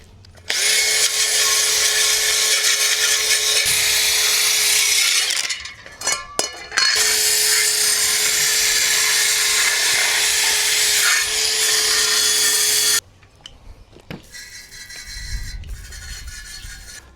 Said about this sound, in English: Going to blast the crust off with this wire brush